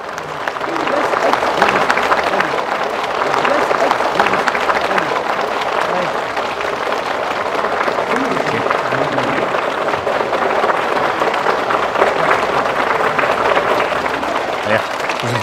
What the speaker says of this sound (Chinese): 让我们再次用掌声